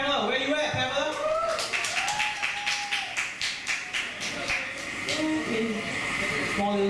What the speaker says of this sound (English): Can you give a big round of applause to Pamela?